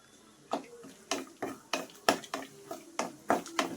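Dry fruits fry in a pan for a mango rava laddu, a spoon knocking against the pan in a steady rhythm of about two taps a second, close and fairly quiet with a faint sizzle beneath.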